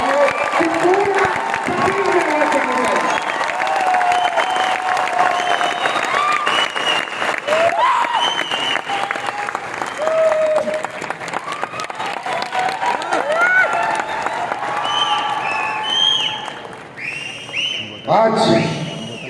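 A large crowd at a Bihar celebration event claps and cheers loudly and continuously, with whistles and shouts rising above the applause and voices breaking through toward the end.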